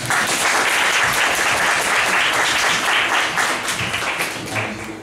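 An audience at a talk or lecture event breaks into sustained, dense applause welcoming the first speaker, loud and close, tapering slightly at the end.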